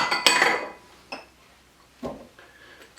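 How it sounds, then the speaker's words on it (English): Tomatoes are dumped into a salad bowl of chickpeas, giving a clattering tumble with a bright clink of the dish, followed by a few lighter knocks against the bowl. "then we're going to dump our tomatoes."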